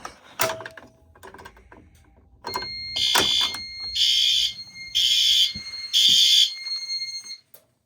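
A Silent Knight IFP-50s fire alarm sounds in four loud, evenly spaced electronic bursts during a pull station test, preceded by a few clicks and knocks; no one speaks.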